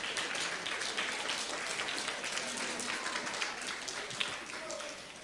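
Continuous applause from a school crowd at an art and science fair for kindergarten students, thick and even throughout and tapering slightly at the end, with some voices mixed in.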